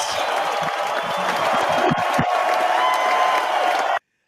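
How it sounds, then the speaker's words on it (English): Studio audience on a talk show applauding and cheering to welcome a guest, a loud, dense, sustained roar of clapping with whoops that cuts off abruptly at the end. "please give my guest a big round of applause"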